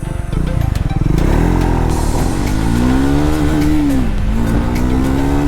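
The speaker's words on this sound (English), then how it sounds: "here I will try to test how much time it is taking to reach from 0 to 60 and from there on to 100" A Triumph Scrambler 400X motorcycle accelerates hard from a standstill toward 100, its engine rising loud and close through the gears with rising whines and brief dips at each shift, heard alone without talk.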